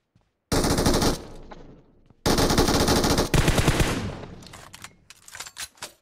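Rapid automatic gunfire from a weapon in the video game BGMI, two long loud bursts followed by a trailing flurry of shots and scattered distant cracks, with no talking.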